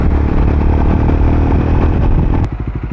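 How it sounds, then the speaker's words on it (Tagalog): A Triumph Speed 400 motorcycle fitted with a Muff City slip-on exhaust runs at close range, a loud, throbbing engine note that drops after a blip into a lumpy, pulsing idle. "Yan yung exhaust na pinakabit natin."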